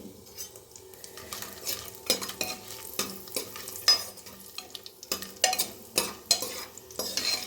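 Bay leaf and green chillies frying in oil in a pan while being stirred, busy sizzling under repeated clinks and scrapes of a spoon against the metal, close and fairly loud.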